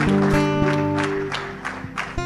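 A church congregation claps and cheers in praise during a worship service, a brief burst of applause over sustained music that fades as the clapping thins out.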